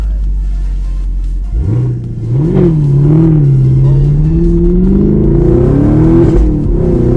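A Chevrolet Camaro SS with a Vitesse throttle controller launches hard from a standstill, its engine rumbling loud and close. The pitch climbs steadily as the car pulls away, and the roar stays heavy throughout.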